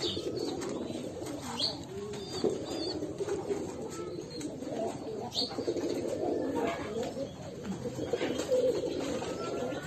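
Several pigeons, including white Beauty pigeons, coo in a steady murmuring chorus at close range, with occasional wing flutters and brief chirps over a continuous low cooing bed.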